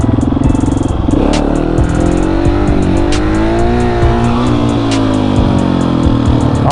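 A KTM 701 motorcycle engine revs hard in first gear during wheelie practice, a loud continuous close roar rising and falling in pitch with brief clattering ticks.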